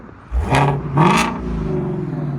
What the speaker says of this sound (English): That's with valves open, guys.